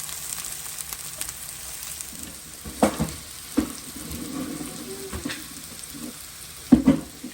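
Bitter gourd (karela) bhaji frying in a home kitchen, a steady low sizzle with a few sharper crackles and stirring clatters scattered through, heard fairly close with no talk.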